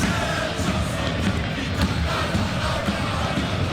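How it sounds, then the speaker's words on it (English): A dense roar from a stadium crowd in the PES 2021 football game, a Champions League final between PSG and Inter, rising in reaction to a near miss and holding loud and continuous throughout. "The crowd reaction tells you just how close that was."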